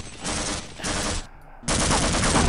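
Sustained full-auto gunfire from a Half-Life: Blue Shift shooter, loud and close, pouring out in two long bursts with a short gap between them, no voices over it.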